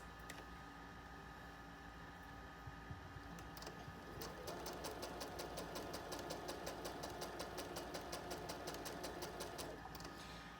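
A sewing machine chain-pieces quilt squares for a nine-patch mini table runner. After a low, faint hum, rapid, evenly spaced stitching pulses start about midway and run steadily to the end.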